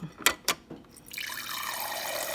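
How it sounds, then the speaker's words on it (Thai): Water drains and splashes steadily from a refrigerator's water dispenser after cleaning, following a few short drips and clicks, close and moderately quiet with no talking. "แล้วเราก็ต้องมาเดรนน้ำออก"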